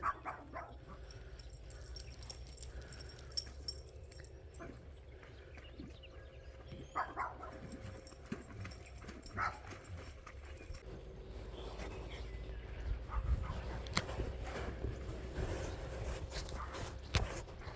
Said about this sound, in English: Louise Francesca Meredith Cassidy, stop chasing the horse.